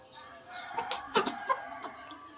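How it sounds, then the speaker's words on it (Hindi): Desi rooster and hen cluck in a short burst of several close, sharp calls rising over a quiet background. "देसी मुर्गा जी।"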